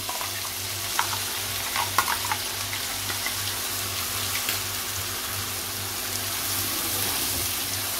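Masala paste frying in a pan for bangda (mackerel) curry, a soft continuous sizzle with a few faint stirring taps over a low steady hum.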